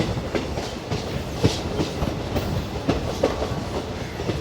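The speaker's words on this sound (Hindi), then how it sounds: "2 मिनट रुकने के बाद अपनी ट्रेन निकलती हुई हुसैनपुर से" A DEMU passenger train pulling out of Husainpur station gives a steady rolling rumble with a rhythmic clickety-clack of wheels over rail joints, heard from on board and fairly loud throughout.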